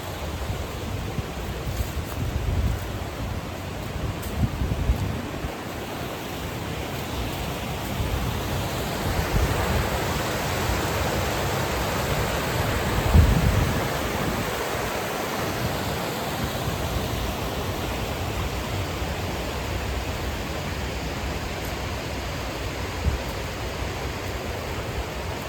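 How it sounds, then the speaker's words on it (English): Brooks Bank Creek flows as a continuous broad rush of water, steady and enveloping throughout with no one speaking, and a few faint bumps and footstep-like thuds come through the flow. "like I said, I think this is Brooks Bank Creek."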